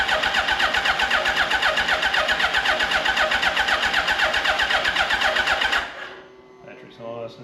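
A Suzuki Hayabusa motorcycle engine is cranked over on its starter without fuel, giving a loud, steady rapid whirring churn for about six seconds that then stops abruptly, leaving faint background noise.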